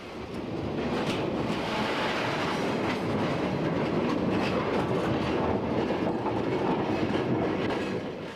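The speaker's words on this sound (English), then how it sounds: "Our train crosses over one of the 2 wooden trestles along the line." A heritage train on the Santa Cruz, Big Trees & Pacific Railway rolls over a wooden trestle with a steady, continuous rumble and clatter, moderately loud and unbroken for several seconds.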